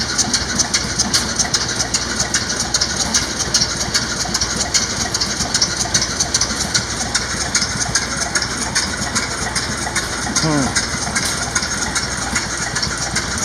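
A vintage diesel engine idles steadily and continuously, a dense mid-to-low rumble filling the whole stretch at an even level with no clear changes in speed.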